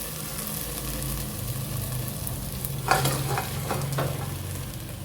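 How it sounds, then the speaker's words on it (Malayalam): Cauliflower is stirred into a hot pan of homemade masala for gobi manchurian. A low, steady sizzle runs throughout, with a few clattering spatula scrapes near the middle and end. "കോളിഫ്ലവർ ചേർത്തിട്ട് നമുക്ക് അങ്ങോട്ട് മിക്സ് ചെയ്തെടുക്കാം."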